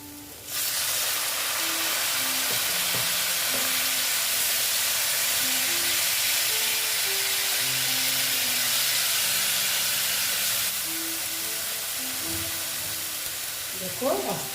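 Loud, steady sizzle of water poured onto hot fried masala in a pan, cooking fish curry (katla fish jhal), a broad hiss lasting nearly the whole stretch with faint background tones and a brief clatter near the end.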